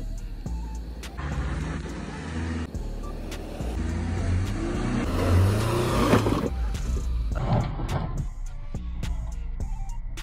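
A 2023 Suzuki Jimny's engine labours up an off-road slope, a steady close low drone that swells and surges midway as the throttle opens, with rough mechanical rumble throughout.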